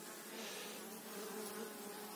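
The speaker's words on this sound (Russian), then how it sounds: "Хорошо, пчелки здесь прижились." Honey bees buzz steadily at the entrance of a hive caught from a swarm trap, a close, continuous drone with no voices.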